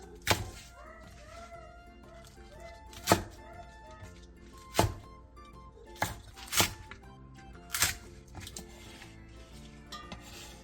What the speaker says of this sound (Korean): 대파 1개를 길게 반으로 가른 뒤 4cm 정도 길이로 잘라주세요.